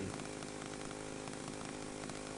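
A chainsaw idles steadily with an even, rattling drone that holds at a constant level without revving. No voices are heard over it.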